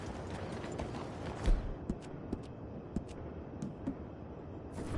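Horse hooves clip-clop in Red Dead Redemption 2, a handful of soft, separate thuds spaced unevenly at moderate distance over a steady low ambient bed, with no talk.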